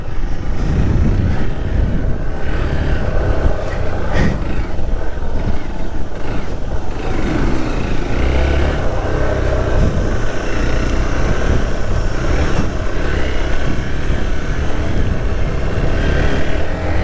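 A rally car on a training track drives hard through corners in first gear, its engine droning loudly and steadily at high revs the whole time, with tire and road noise underneath.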